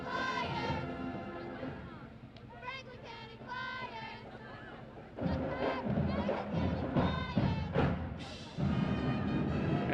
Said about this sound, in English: A quick little cheer from the Franklin County Flyers.